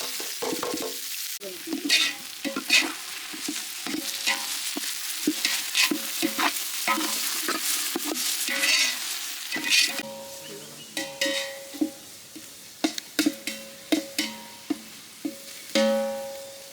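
Onions, green chillies and garlic sizzle in a hot pan while a spoon stirs them, scraping and clinking in repeated strokes, close and steady.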